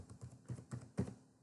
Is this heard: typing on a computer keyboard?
yes